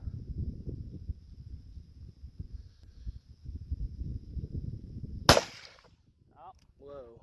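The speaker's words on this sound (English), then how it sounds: "let's do a little long-range target shooting here" A Ruger GP100 revolver fires a single sharp, loud shot during outdoor long-range target shooting, preceded by steady wind rumble and followed by a faint echo and brief trailing sounds.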